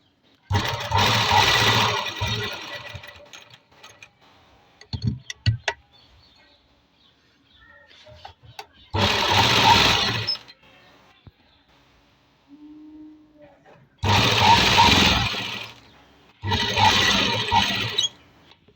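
A sewing machine stitching the neckline of a kurti runs in four loud bursts of rapid whirring, with quiet pauses and small clicks between runs.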